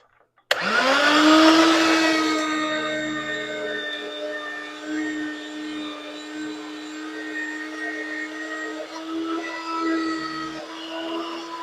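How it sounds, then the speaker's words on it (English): An electric shredder works through a block of cheddar cheese, its steady motor whine kicking in abruptly and holding loud and even for about eleven seconds. "Now I'm going to shred some cheddar cheese"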